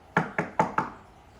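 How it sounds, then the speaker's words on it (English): Four sharp knocks on a house door, close and distinct, coming in two quick pairs before the room falls quiet. "suddenly there was a knock at the door"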